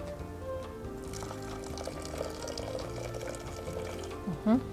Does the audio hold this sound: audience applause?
no